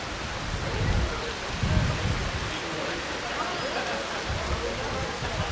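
Torrential rain pours down steadily and loudly at an outdoor FootGolf course in Acapulco, a dense continuous wash with a few heavier low gusts and no talk.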